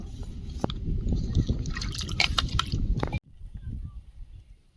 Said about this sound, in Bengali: পটলগুলো ধুয়ে নেব